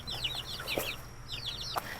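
A small bantam chicken clucks and chirps in quick, rising bursts, close by, with a couple of sharper clicks among the calls.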